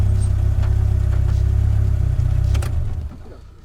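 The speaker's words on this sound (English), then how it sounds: "I turn the engine off when I can, as I know it's very noisy" A Caterham sports car engine idles with a steady, throbbing low rumble close by at a McDonald's, then cuts off near the end, leaving faint ambient noise.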